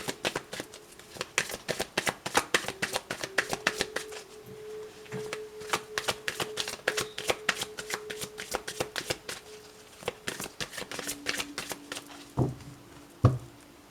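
Oracle cards being shuffled and cut, a long run of quick, crisp riffling snaps close to the mic, ending with a few separate slaps as the deck is cut.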